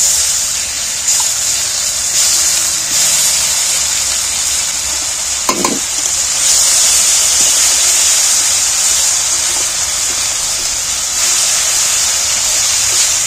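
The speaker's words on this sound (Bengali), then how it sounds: "আজ আদা রসুন যে পেস্ট করতে দিয়েছিল সেগুলো এবার আমি কড়ার মধ্যে তুলে দিচ্ছি" Ginger-garlic paste goes into hot oil in a wok while cooking a fish roe curry, producing a continuous bright sizzle and crackle, with a short scraping stir midway.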